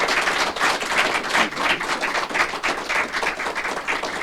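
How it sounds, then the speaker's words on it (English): Audience applause at a mayor's press conference, a steady dense clapping that fills the whole stretch at moderate loudness with no talk over it. "Let's have a round of applause for Brendan."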